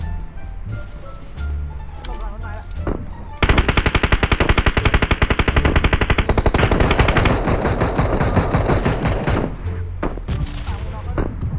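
Rapid automatic gunfire during a PUBG Mobile match, a dense, loud burst of closely spaced shots lasting several seconds, with quieter game sounds before and after.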